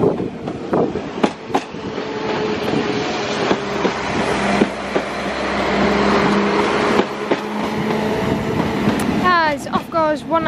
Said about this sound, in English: 197-12 now departing, as it's doing an ECS.